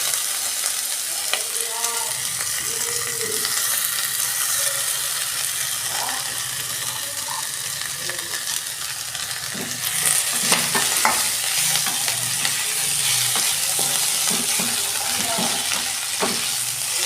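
Small shrimp and vegetables for a Bengali pui metuli dish fry in a pan with a loud, continuous close sizzle, broken by repeated spatula scrapes and clatters that grow busier in the second half.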